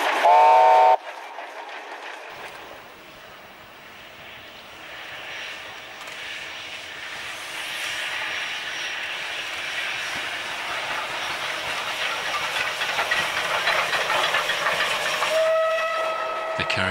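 A QJ steam locomotive in Inner Mongolia, China, blows a brief harmonic whistle, then its train rumbles and hisses past, growing louder, before another whistle near the end.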